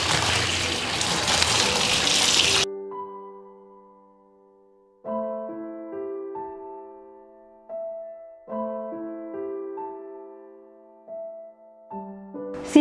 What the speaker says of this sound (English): just in running normal temperature water I am going to rinse the excess color